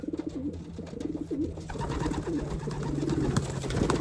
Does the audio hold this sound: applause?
no